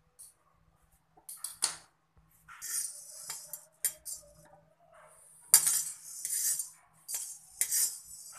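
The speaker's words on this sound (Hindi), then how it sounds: "इसमें हम काली मिर्च को सेक लेंगे पहले।" Whole black peppercorns are dry-roasted in a kadai on a gas flame, giving intermittent metallic scrapes, clinks and rattles of stirring against the pan, alternating with quiet gaps, fairly close.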